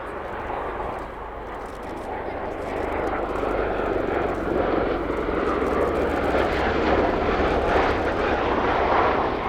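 V-22 Osprey tiltrotor aircraft flying at an airshow, a steady, loud, broad engine and rotor roar that swells slightly and holds throughout.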